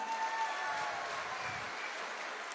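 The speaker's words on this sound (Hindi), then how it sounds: "एक बार AWPL प्लेटफॉर्म के लिए दिल से ताली होनी चाहिए।" An audience breaks into steady applause at a speech event, a dense wash of clapping that sounds somewhat distant and moderate in level, with no clear voices on top.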